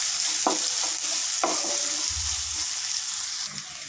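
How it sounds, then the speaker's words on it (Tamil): Onions fry in hot oil with green chilies, cooked for a semiya veg biryani. A bright, continuous sizzle runs under a few spoon scrapes and clinks, and a brief low thump sounds midway. "இப்போ வெங்காயத்தை போட்டுடலாம் நல்லா ஃப்ரை பண்ணிக்கிறோம்"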